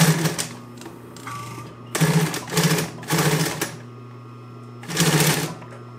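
Sewing machine running with its thread tension set too loose, producing a steady mechanical hum under repeated louder bursts of rapid stitching, close and fairly loud, with pauses between runs.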